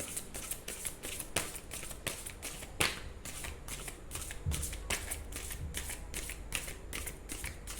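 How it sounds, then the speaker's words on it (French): A deck of tarot cards is shuffled close by, a steady run of crisp riffling flutters and soft slaps lasting several seconds with no talking. "j'avais déjà mélangé les cartes, mais je vais les remélanger encore un petit coup"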